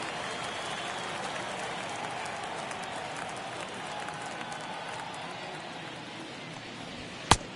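Baseball stadium crowd at a Colorado Rockies vs. Milwaukee Brewers game makes a steady diffuse murmur and cheer, moderately distant and even throughout, ending with one sharp loud crack near the close.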